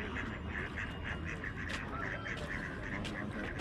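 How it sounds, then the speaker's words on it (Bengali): Many ducks of various species quack repeatedly on the riverbank of the Thames at Windsor, a rhythmic series of calls at moderate distance over a dense, murmuring outdoor background. "দেখেন না কত হাঁস, অসংখ্য হাঁস।"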